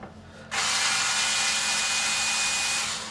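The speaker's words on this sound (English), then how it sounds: "Get the screwdriver working the right way." A power screwdriver spins up suddenly and whirs steadily for a few seconds while backing screws out of a guitar's rear plate, loud and close, then tapers off.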